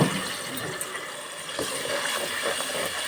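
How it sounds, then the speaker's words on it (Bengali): Water poured in a steady, hissing stream into a hot pan of onions, chili and mixed spices for a taro (kochu) curry, close and continuous with no talking. "অল্প একটু পানি দিচ্ছি যেহেতু পুড়ে না যায়"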